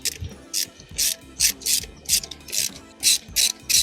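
Ratchet wrench backing out T30 Torx screws on the supercharger bypass valve motor of an Audi S4, a rapid series of close, crisp clicking bursts in a steady rhythm, about eight strokes with no talking.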